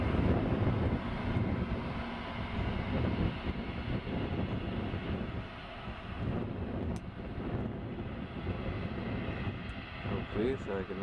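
A light aircraft's engine drones steadily and loudly as the plane spins around and taxis, a continuous rumble with wind buffeting throughout.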